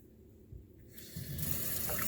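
Hot tap water runs into a sink as a cloth is rinsed during a stain remover demonstration, starting faint and swelling into a steady louder gush by the end, with no talking.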